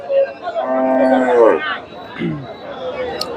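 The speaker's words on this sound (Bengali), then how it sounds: "এখানে বাইরের কাছে একটা গাভী দেখতেছি ফ্রিজিয়ান জাতের" A Friesian cow at a busy cattle market lets out one loud, close moo, followed by a shorter low call, with crowd chatter around it.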